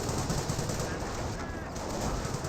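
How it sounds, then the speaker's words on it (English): Machine gun fire from a Bren carrier in the video game Company of Heroes, a dense continuous barrage of battle noise filling the whole stretch at fairly loud level. "Petrograd now receiving some fire there from the Bren carrier"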